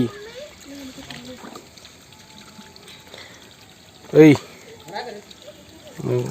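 Faint water pouring and trickling from a pipe in the background while a person talks nearby, with one brief louder vocal burst.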